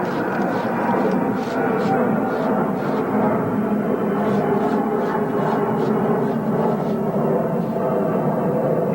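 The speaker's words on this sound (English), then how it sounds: "You just put jet fuel like that guy going overhead right now. This U-2 going overhead." A U-2 jet aircraft passes overhead, its broad roar a steady continuous rumble through the whole stretch, with occasional voices of people talking underneath.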